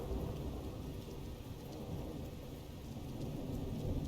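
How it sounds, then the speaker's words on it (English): Steady rain pours down in a heavy, unbroken wash, with a low rumbling of distant thunder rolling underneath throughout, no voices present. "The sound of the rain falling around you and the distant claps of thunder."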